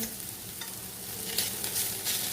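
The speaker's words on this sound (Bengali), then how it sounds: "গ্যাসটা কিন্তু বাড়িয়েই রেখেছি আমি অনবরত শুধু নাড়ছি এখন" Bitter gourd (korola) stir-fries over a high gas flame, giving a continuous close sizzle with a spatula scraping and stirring through it now and then.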